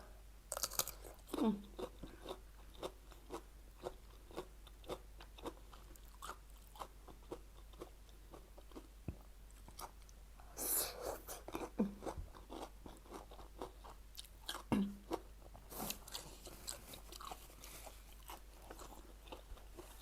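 Someone chews a Thai-style spicy salad of mixed greens with raw and cooked salmon and shrimp, making soft, close crunching bites at irregular intervals over quiet background noise.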